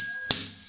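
A notification bell sound effect gives one short, bright chime with a sharp strike, ringing over steady high tones, alone and close.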